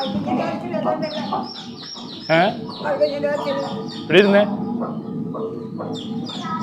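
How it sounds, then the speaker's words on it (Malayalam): Newly bought chicks of a non-native breed peep in thin, high, steady calls under loud, close voices of people talking. "കോഴിക്കുഞ്ഞ് മേടിച്ചിട്ടുണ്ട്"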